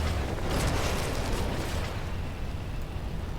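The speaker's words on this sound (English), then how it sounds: "I blew every single one of those things up with one geology cannon grenade." A geology cannon grenade detonates in the video game No Man's Sky, a loud, dense rumbling blast that roars continuously and slowly tails off.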